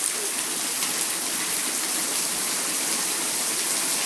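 Heavy rain mixed with hail pours down in Peguche, Ecuador: a dense, loud, continuous hiss of drops striking surfaces, with no voices over it.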